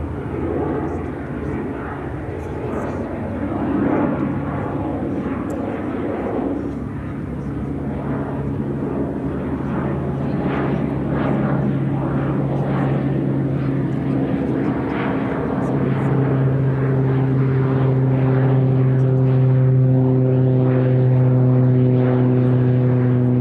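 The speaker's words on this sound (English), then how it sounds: "Cessna Grand Caravan" A Cessna Grand Caravan turboprop at Chicago O'Hare gives a steady propeller drone with a rising tonal hum, heard at moderate distance while people talk over it.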